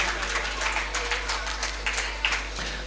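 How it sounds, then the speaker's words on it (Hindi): An audience at a closing ceremony of a moral education camp at a Digamber Jain temple claps for the women in a moderately loud, uneven patter of hands. "जोरदार ताली महिलाओं के लिए भी"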